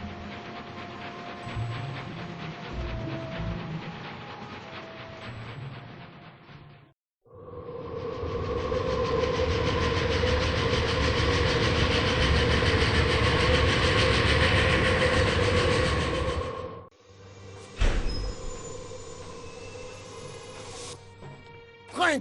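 Train running on rails in the Agatha Christie Orient Express video game, a loud, steady rumble with rhythmic clickety-clack that drops out briefly, then resumes and fades into a lighter rattle with clanks near the end.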